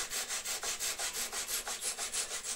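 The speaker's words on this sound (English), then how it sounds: "I just take my saw, and this is kind of a flush trim saw" A flush trim saw with no tooth offset cuts through wooden dowels in quick, even back-and-forth strokes, about five per second, close and rasping.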